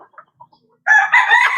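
A bantam chicken with a cold gives a few faint low clucks, then a sudden loud, close, drawn-out squawking call.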